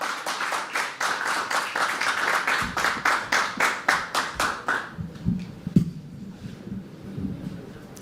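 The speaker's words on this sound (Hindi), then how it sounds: "सो जोरदार तालियां प्रदीप के लिए गाइस" Audience claps for poet Pradeep at a poetry open mic at The Habitat, a dense crowded burst of hand claps for about five seconds that then thins to a few scattered claps and light room noise.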